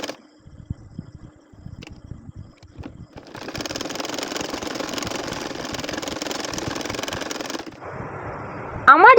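An electric sewing machine stitches a nakshi kantha quilt with a steady mechanical whir, quiet at first and then louder and continuous for several seconds, stopping near the end with a short clatter.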